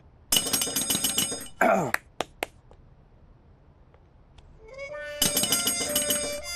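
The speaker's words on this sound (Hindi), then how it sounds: "घंटी बजा।" A bell rings twice in sustained, metallic tones, separated by a pause with a few sharp clicks and brief voices in between.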